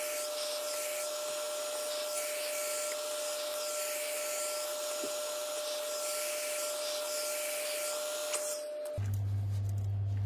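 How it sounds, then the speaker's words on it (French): A loud, steady blowing whir of a heat gun running continuously on glued flooring, with a constant tone, then it cuts to a different lower hum near the end. "faire un coup de décapeur thermique pour essayer de décoller tous les collages"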